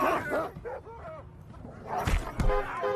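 An attacking dog lets out a few sharp barks and yelps late on, loud and close, after a stretch of other vocal sounds.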